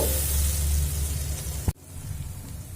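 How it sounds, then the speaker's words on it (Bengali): Masala with turmeric powder and a little water sizzles in a pan, making a steady, close broadband hiss that cuts off abruptly near the end, with a fainter hiss continuing afterward. "হলুদ গুঁড়ো দিয়ে খুব সুন্দর করে মশলাটা কষিয়ে নেব"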